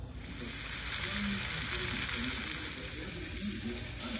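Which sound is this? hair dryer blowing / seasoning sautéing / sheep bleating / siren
seasoning sautéing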